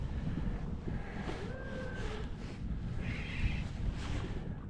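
Wind blows steadily outdoors on the water while fishing for brown trout, a low rumbling buffet against the microphone that stays moderate throughout.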